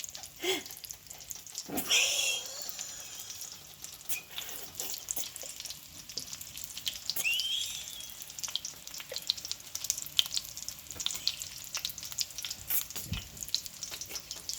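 Farm-grown eggplants grilling on both sides, giving a faint, steady sizzle with a few scattered clatters and small bursts of noise, heard from close by and fairly quiet.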